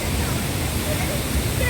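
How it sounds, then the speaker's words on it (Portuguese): A waterfall on the Rio das Antas roars as a dense, continuous rush of water, steady and fairly loud throughout, with voices faintly present beneath it. "E ali tem uma outra Cachoeira."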